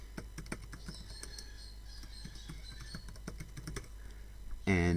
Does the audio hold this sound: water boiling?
no